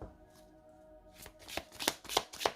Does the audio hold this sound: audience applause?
no